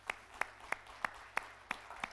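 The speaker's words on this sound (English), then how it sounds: "Some of your moms are clapping as well because you're clapping for your mom" Steady, evenly spaced claps, about three per second, from an audience applauding mothers at a Mother's Day gathering, fairly close and with no voices.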